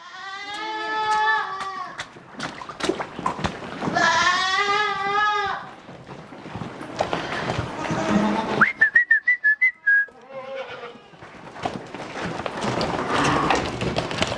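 Red Kalahari goats bleat loudly and repeatedly nearby as they step into their pens, while someone whistles in short bursts, with shuffling and movement among the animals.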